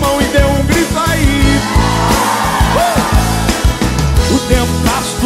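A church congregation with raised hands shouts and cheers in a loud, continuous wall of yelling voices, with rhythmic thumps running underneath throughout.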